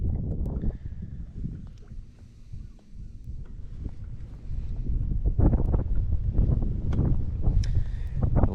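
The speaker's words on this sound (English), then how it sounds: "The wind is brutal, y'all." Strong wind buffets a microphone on a fishing boat out on the water, a loud continuous low roar with gusts that grow heavier in the second half.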